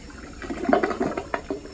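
A supermarket restroom toilet at an Albertsons flushes in a short, gurgling burst of rushing water, close and fairly loud, with sputtering splashes over about a second and a half.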